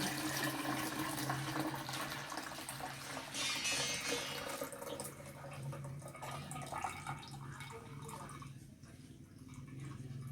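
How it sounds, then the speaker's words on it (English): Passionfruit juice being sieved into a jug, a soft continuous pouring and trickling of liquid that thins toward the end, fairly quiet and close, with no talk. "what you're going to do is to sieve our juice into a jug"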